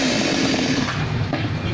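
A small chainsaw engine runs steadily after a choke-assisted start, giving a loud, continuous buzzing roar up close with no talking.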